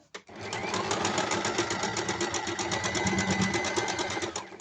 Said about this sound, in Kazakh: мына бетін тігемін қазір